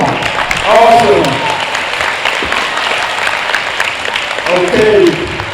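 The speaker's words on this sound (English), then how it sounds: "round of applause" Sustained applause from an audience at a middle school African-American symposium, steady broadband clapping with a couple of brief voices or cheers rising above it near the start and end.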